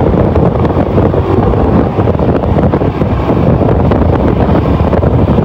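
Strong, steady wind roars and buffets the microphone throughout, a loud continuous rumble with no voices.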